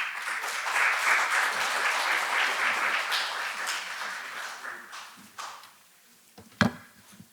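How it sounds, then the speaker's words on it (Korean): An audience at a corporate governance seminar applauds to welcome a law professor to the stage, with moderate clapping that swells, then thins to a few scattered claps and a final knock. "박수로 맞이해 주시면 감사하겠습니다."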